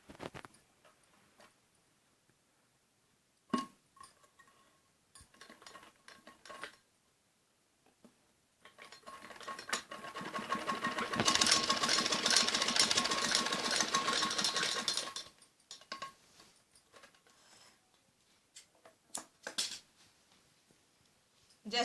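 A sewing machine runs over piping on a kameez neck, a fast steady clatter for about five seconds in the middle, surrounded by scattered ticks and handling clicks in near quiet.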